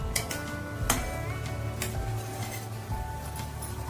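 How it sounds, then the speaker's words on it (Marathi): A spoon stirs a pot of boiling salted water with a spoonful of ghee for modak dough, giving loud repeated metal clinks and scrapes over a steady bubbling sizzle, close up and without talk. "व्यवस्थित ढवळून घेऊया।"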